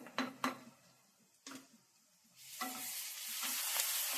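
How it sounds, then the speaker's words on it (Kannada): Several light utensil clinks against a pan, then green chilli paste goes into hot oil for a Uttara Karnataka dal palya, and a loud, close sizzle swells up and holds steady. "ಇವಾಗ ಇದಕ್ಕೆ ನಾನು ಹಸಿಮೆಣಸಿನಕಾಯಿ ಪೇಸ್ಟ್ ಹಾಕ್ತಾ ಇದ್ದೀನಿ"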